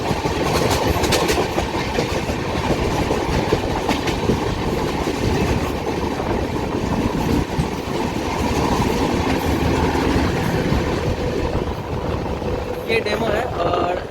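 A train on the New Jalpaiguri to Alipurduar line through tea estate country rolls past close and loud, with a steady heavy rumble and rhythmic wheel clatter filling the whole stretch.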